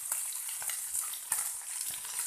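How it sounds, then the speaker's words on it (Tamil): Sardines fry in oil on a dosa pan, giving a steady, dense crackling sizzle throughout with a few brief louder pops, close and alone. "இது கொஞ்சம் நல்லா ஃப்ரை ஆகட்டும்."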